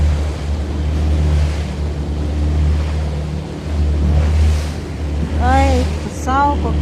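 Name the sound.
waves washing against the shore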